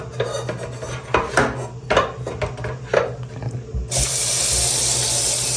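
Two whetstones are set in water to soak before sharpening barber scissors. A few hard clinks and knocks come first, then a steady rush of running water takes over, close and fairly loud.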